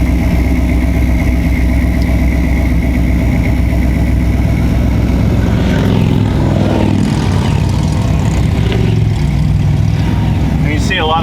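A vehicle cruises down Route 872 on a pretty day, leaving Lakeview for the Willows: a steady, loud road and engine drone fills the whole stretch, with faint talk underneath.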